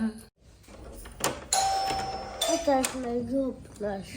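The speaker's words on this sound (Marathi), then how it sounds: "बेल वाजली" Doorbell ringing indoors at a family home, a couple of bright chimes cutting through lively nearby talk, with a voice among the speakers.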